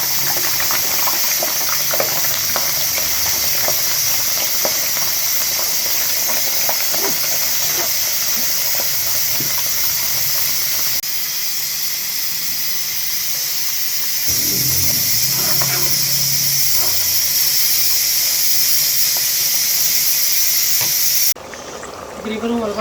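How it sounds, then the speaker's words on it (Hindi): Bitter gourd (karela) pieces frying in plenty of hot oil, a steady loud sizzle and hiss with stirring clatter throughout. "ऑयल गर्म हो गया, करेले इसमें डालते हैं।"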